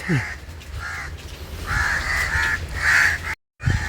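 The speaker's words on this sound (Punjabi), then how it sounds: "ਕਿੰਨੇ ਪੰਛੀ ਐ" Several crows caw repeatedly in harsh, rhythmic bursts nearby under a mango tree in summer heat, with another bird chirping briefly at the start and end.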